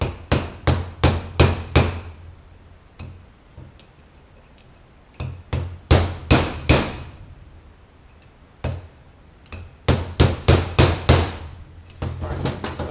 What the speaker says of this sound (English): Take just a little socket and lightly tap this in.